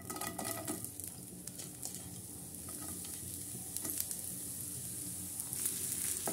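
Onions fry in hot oil in a pan, giving a steady, soft, close sizzle with faint stirring scrapes throughout.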